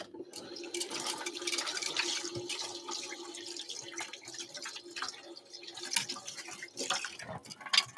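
Water runs from a sink tap while a syphon coffee filter is rinsed, a steady close splashing stream with scattered drips and clinks throughout, no talking.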